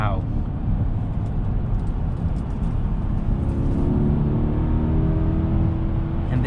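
A Mercedes GLS 580 with a 4.0-litre bi-turbo V8 pulls hard under acceleration, heard from inside the cabin as a steady, deep engine drone and road rumble that swells slightly toward the end, with voices faintly mixed in.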